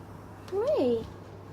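A pet cat gives a single short meow indoors, close and fairly quiet, its pitch rising then falling against a low steady background hum.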